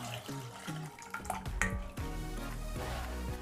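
Reserved water is poured from a vessel into mashed toor dal for a drumstick leaves sambar, giving a steady close splashing trickle that runs on without talk.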